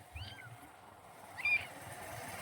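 A cat gives two short, faint meows about a second apart in a rubber-plantation setting, over a low rumbling background.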